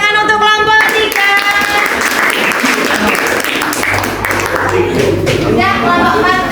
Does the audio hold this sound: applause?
yes